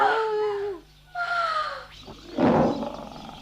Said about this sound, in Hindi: अरे ये तो सचमुच शेर की आवाज है